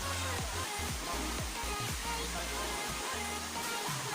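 Busay Falls in Bani, Pangasinan, roars as a constant loud wash of falling water, with low voices murmuring faintly beneath the steady rush.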